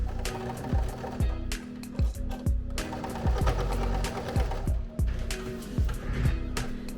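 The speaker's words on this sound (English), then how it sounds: "go ahead and sew that 1/4 inch seam allowance around, leaving this open." A sewing machine stitches a 1/4 inch seam allowance around plush fabric, with a steady run of close mechanical thumping strokes that continues throughout.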